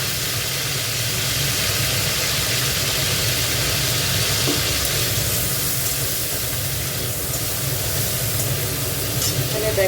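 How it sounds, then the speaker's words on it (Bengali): Shrimp sizzle steadily in a pan while cooking for Bengali shrimp posto, a constant close frying hiss without a break. "এবার চিংড়ি মাছটা রান্না করব।"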